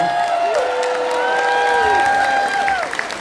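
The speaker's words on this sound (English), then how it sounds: "So, big round of applause." Audience applause and cheering at a lifetime achievement award ceremony for a musician, a dense continuous wash of clapping with whoops and raised voices in the hall, loud and close throughout.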